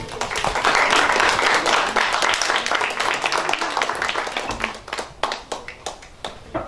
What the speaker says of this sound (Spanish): le pido un fuerte aplauso por favor para recibir